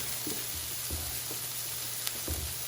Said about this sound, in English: Fry it up a little bit.